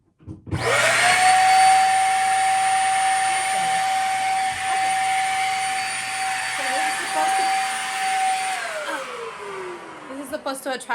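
Vacuum cleaner fitted with a dryer lint removal kit switches on and runs with a loud, steady, high-pitched whine, then winds down near the end, heard close with no talking.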